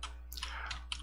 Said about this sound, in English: So let's start typing